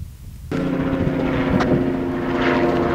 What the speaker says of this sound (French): Hélicoptère! Vous êtes venus nous visiter à Poly? Est-ce qu'on est beau vu de haut?